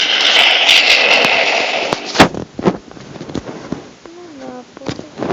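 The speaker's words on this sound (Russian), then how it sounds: "Маленький взрыв." Several sharp blasts and crackling pops from a small explosion in Minecraft on a tablet burst out amid busy, noisy game sound, with a loud thump near the middle and scattered smaller bangs afterward.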